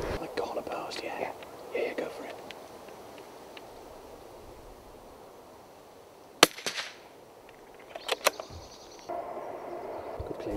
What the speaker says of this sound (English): The rimfire is really on song in Liam's hands